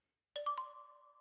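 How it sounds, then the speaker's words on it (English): A short three-note phone notification chime in a video game, bright tones rising quickly and then ringing out softly alone after a silent start. "That's my phone. I got a notification."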